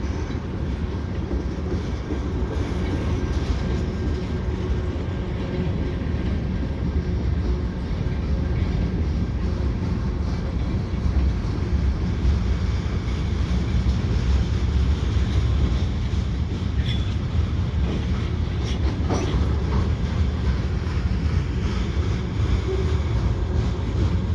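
A CN mixed freight train led by an old GP9RM rumbles steadily across the Lachine Canal bridge, a loud continuous low roll of wheels and cars with faint metallic clatter, unbroken for the whole stretch.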